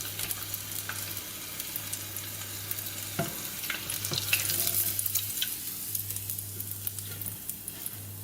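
A thin perch fillet frying in a pot of oil at 180 degrees, giving a steady, close sizzle and crackle throughout with a low hum underneath.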